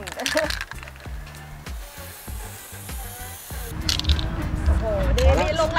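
An aerosol spray paint can lets out a steady, close hiss in the second half, after a stretch of people talking.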